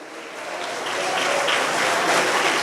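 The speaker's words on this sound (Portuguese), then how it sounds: "Pode aplaudir aquele que tem tudo em você" A church congregation applauds during a sermon, a dense, steady wash of many hands that swells slightly louder and carries on without a pause.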